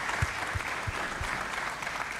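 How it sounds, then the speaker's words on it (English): A conference audience at a general assembly session applauds its panelists with steady, dense clapping that fills the room, with a few low thumps scattered through it. "Ladies and gentlemen, with a round of applause to my panelists"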